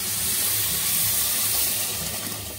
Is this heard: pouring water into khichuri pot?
yes